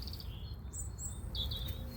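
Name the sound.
birds chirping noisily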